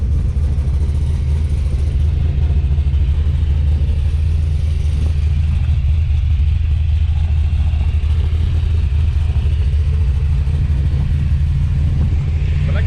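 Dodge D100 pickup with an upgraded exhaust idles and rumbles loudly and close, a deep steady drone with a slight rise in throttle near the end.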